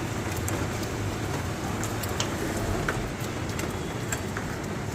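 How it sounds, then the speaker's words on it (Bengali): Heavy rain pours steadily outdoors, a dense, even wash of hiss with scattered sharper drop ticks running throughout, with no voices. "বাইরে তো অঝোর ধারায় বৃষ্টি পড়ছে"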